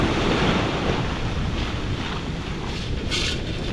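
Loud ocean surf crashing and rushing during a hurricane, a heavy continuous wash of breaking waves with wind buffeting the microphone, close and unbroken with no talking.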